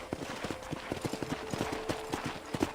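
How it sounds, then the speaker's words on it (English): A horse in the game Red Dead Redemption clip-clops along at a steady walk, close and distinct hoofbeats in a regular rhythm over quiet ambience. "I picked out a fine horse for you."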